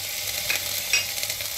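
Garlic-ginger paste sautés in a pan as the first step of a lasagna, giving a steady, soft sizzle with faint stirring scrapes, close by and alone.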